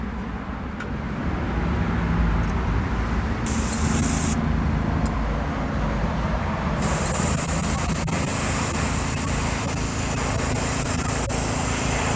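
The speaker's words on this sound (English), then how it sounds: "I think I'm going to change my air hose out real quick and spray the next color." An airbrush sprays House of Kolors organic green paint, giving a steady close hiss of compressed air that runs almost the whole time, with brief breaks and a brighter, stronger burst near the end, and no voices.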